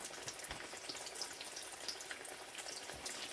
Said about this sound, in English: that sizzle right when I put it in